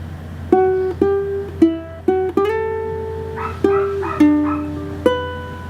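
A plucked ukulele plays a slow fingerstyle melody, single notes ringing out one after another, close and clear with no voices.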